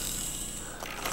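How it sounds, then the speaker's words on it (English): A Foredom rotary tool grinds the edges off the end of a waterfowl bone during taxidermy mounting, a steady close whirring buzz with fine gritty texture that shifts pitch slightly near the end, with no talking. "I like to leave the length of the bone intact, but just grind off the edges"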